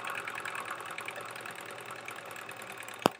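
A sewing machine stitches quilt pieces with a steady, continuous mechanical whir, close and even throughout, ending with a single sharp knock.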